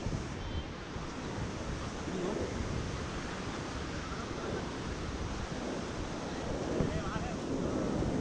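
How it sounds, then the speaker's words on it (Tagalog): Strong waves surge onto a beach at low tide in Dubai, a continuous broadband roar of surf with wind buffeting the microphone, steady and loud throughout. "Low tide pero ang lakas ng alon."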